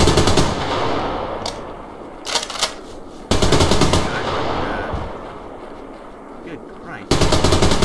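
Full-auto 7.62 fire in the video game Survarium rattles out in loud, rapid bursts at the start, middle and end, with fading echoes and a man's exclamation between them.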